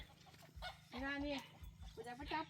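Chickens cluck and squawk in short agitated bursts while people try to catch them, with voices talking nearby between the calls.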